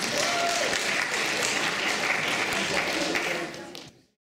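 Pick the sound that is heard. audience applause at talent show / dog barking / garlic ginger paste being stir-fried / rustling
audience applause at talent show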